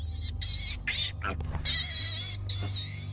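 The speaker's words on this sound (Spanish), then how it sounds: "Dentro de su casa se oían chillidos de animales que parecían ser cerdos." Pigs squeal inside a house, sounding as if they are suffering: shrill, wavering cries in several bursts with brief gaps, over a steady low background rumble, with no talking.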